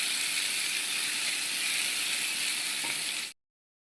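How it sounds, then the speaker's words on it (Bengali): A ginger-garlic spice paste fries in a pan while a Chicken Maharani is being cooked, giving an even, dense sizzle. Nearby and fairly loud, it runs without pause and then cuts off abruptly. "মশলাটা অনেকটাই ফ্রাই হয়ে গেছে"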